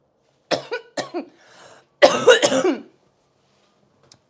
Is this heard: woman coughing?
yes